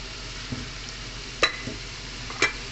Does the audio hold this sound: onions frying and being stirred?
yes